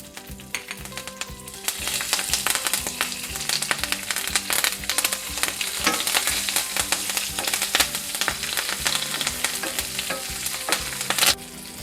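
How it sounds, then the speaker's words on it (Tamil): Green chillies, dried red chillies and curry leaves frying in hot oil for South Indian black urad dal rice, with loud continuous close crackling and sizzling and rhythmic stirring scrapes. "பச்சை மிளகாயும் காஞ்ச மிளகாயும் வச்சுருக்கோம், அதையும் சேர்த்துடலாம். கருவேப்பிலையும் கூட சேர்த்துடலாம்."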